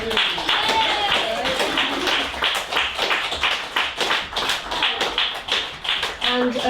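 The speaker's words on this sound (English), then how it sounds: "I'd like you to have a big round of applause for Mel." A small group claps in uneven, scattered bursts at a fundraising evening in a Leicester bar, with voices murmuring underneath.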